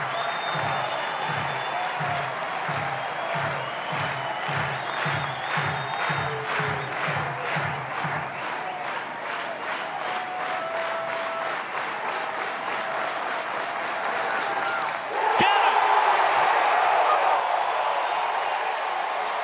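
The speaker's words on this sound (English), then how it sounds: "This crowd erupts on the plains." Baseball stadium crowd at an Auburn versus Coastal Carolina NCAA championship game, rhythmic clapping giving way to sustained cheering that swells into a loud roar near the end.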